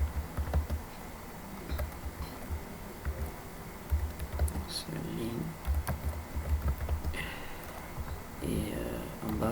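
Quick clusters of keystrokes on a computer keyboard as a comment is typed in C code, soft clicking bursts with brief pauses, under a voice talking.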